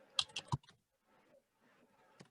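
A few quick keystrokes on a computer keyboard while entering text into a spreadsheet cell, crisp clustered clicks at the start, then faint sparse taps with one last key press near the end.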